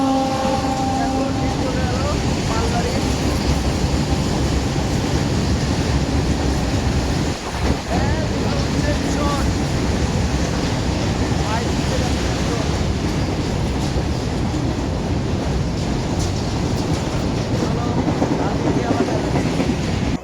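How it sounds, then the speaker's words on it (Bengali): A train arriving at Krishnanagar City Junction railway station, a loud continuous rolling roar with rhythmic wheel clatter filling the whole stretch, close by and steady. "গাইস দেখতেই পাচ্ছ সামনে ট্রেন আসছে, ট্রেনটা দেখানোর চেষ্টা করবো।"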